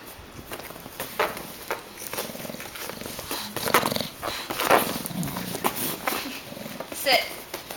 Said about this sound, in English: Sophie, quit playing with the puppies.